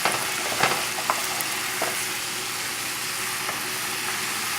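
Butter and tomatoes that have broken down into a sauce sizzle and fry in a stainless pan, a steady close crackle broken by faint stirring clicks, with no talking.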